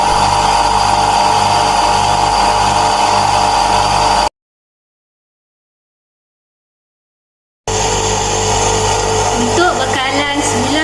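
A three-phase induction motor runs steadily in an electrical machines lab, giving a constant loud hum and whine that drops out for a few seconds and then resumes, with faint background noise.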